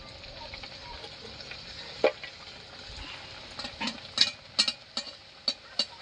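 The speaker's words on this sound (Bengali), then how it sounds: "তেল গরম হয়ে গেছে এবার ছেড়ে দিচ্ছি লুচি" Palm-flavoured luchi flatbread slides into hot oil and frying begins, a steady low sizzle under a background hum, punctuated by a string of sharp clinks and taps toward the end.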